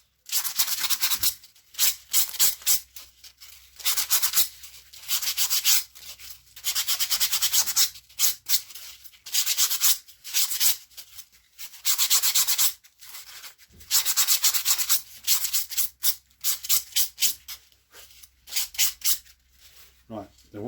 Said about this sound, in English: get yourself some fine grit sandpaper. Again, hold the top of it and just give it a little sand down